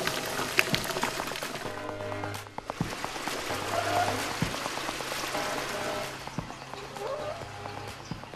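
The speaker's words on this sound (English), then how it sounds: "Liquid grout is poured into the space between the liner and the old manhole." Liquid grout poured into the gap between a new shaft liner and an old manhole during manhole rehabilitation, a continuous splashing, rain-like wash with scattered clicks and knocks, fairly loud and steady throughout.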